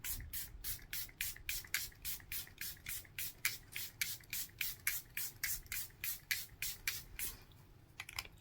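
One Size Powder Melt setting spray misted in about twenty quick, regular pumps over roughly eight seconds, each a short close hiss, ending with a couple of slower, softer bursts.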